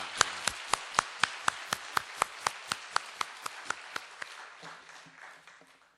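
A church congregation at a Korean Sunday service claps to welcome a visiting missionary, crisp claps in a fast, even rhythm that gradually fade.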